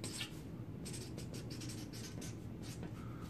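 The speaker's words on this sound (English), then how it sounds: "I'll write it down." Handwriting with a pen on paper, a series of soft scratchy strokes in short bursts, close and quiet against a low background hum.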